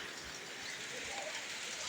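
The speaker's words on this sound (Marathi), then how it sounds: "पाऊस पडतोय बाहेर भरपूर." Heavy rain falls outside, heard from indoors as a faint, steady, even hiss with no talking.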